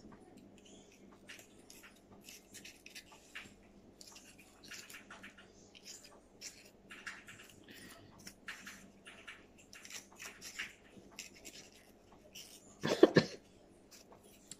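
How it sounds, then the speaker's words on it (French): A single close cough bursts out near the end after a long stretch of quiet rustling and soft handling noises while testing craft dies with polystyrene for a mini album. "je tousse"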